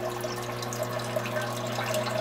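A loop siphon begins draining an aquaponics grow bed filled with expanded clay media in a quiet apartment, giving a steady soft trickle of water over a low constant hum.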